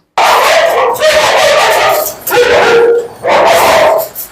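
Two long-coated German Shepherd dogs bark loudly close by in three long bursts, mixed with yips and whimpers.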